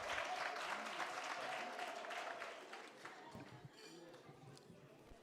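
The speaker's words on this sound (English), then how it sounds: "Ladies and gentlemen, one big round of applause" Audience applause at a teaching and learning conference, following a musical performance: steady dense clapping from a sizeable crowd that thins gradually toward the end.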